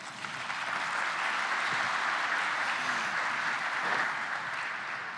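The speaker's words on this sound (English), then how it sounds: "Thank you very much for your presentation, and another round of applause" An audience at an internet measurements working group conference claps after a presentation, a sustained moderate round of applause at medium distance without speech over it.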